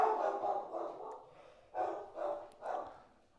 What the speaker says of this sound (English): my fucking dog goes shithouse again for no goddamn reason